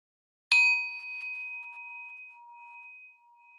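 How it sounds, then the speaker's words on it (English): A meditation bell rings once with a bright metallic strike, then its clear tone sustains and slowly fades over several seconds in a quiet room. "just listen to the sound of the bell for as long as you can"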